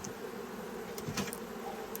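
A steady, low honeybee buzz hums throughout, close by, with no voices.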